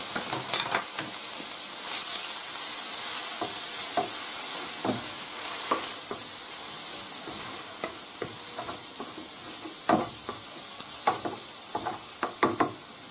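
Chopped onion sautés in oil in a pan for seafood paella, a steady close sizzle broken by sharp scraping and clacking stir strokes, busier toward the end; no voices.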